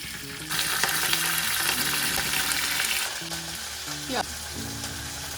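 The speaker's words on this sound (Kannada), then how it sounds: "ಸ್ವಲ್ಪ ಕರ್ಬೇವಿನ ಸೊಪ್ಪನ್ನ ಎಣ್ಣೆಯಲ್ಲಿ ಫ್ರೈ ಮಾಡ್ಕೊಂಡು ಇದಕ್ಕೆ ಕೊನೆಯಲ್ಲಿ ಹಾಕೋಣ" Curry leaves dropped into hot oil burst into a loud, close crackling sizzle that eases off after a few seconds, followed by a brief metallic clink.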